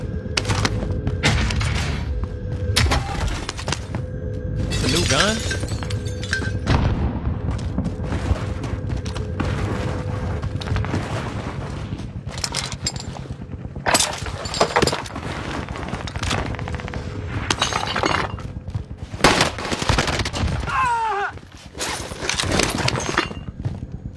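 Rapid bursts of gunfire from a new gun in the video game Call of Duty: Vanguard, repeated loudly across a long stretch of play, with sharp cracks and booming impacts and short pauses between volleys.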